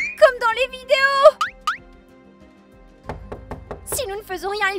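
A big, fuzzy purple monster bangs on a door, a burst of sharp knocks landing close together and loud beside excited voices, with a voice speaking before and after.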